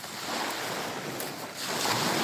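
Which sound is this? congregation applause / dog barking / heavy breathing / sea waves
sea waves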